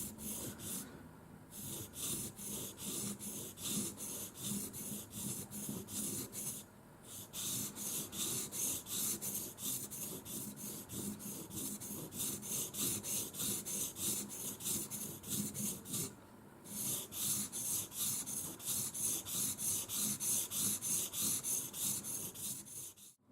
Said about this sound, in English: See this stone starting to give us a finer polish, taking away the scratches left from the rougher stone.